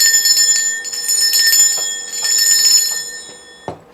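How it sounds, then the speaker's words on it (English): A cleansing bell is rung several times, bright sustained metallic tones shimmering and overlapping near the listener, then a short dull knock closes it off. No one speaks. "I'm going to be ringing a bell."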